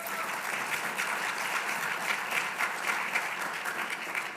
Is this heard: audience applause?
yes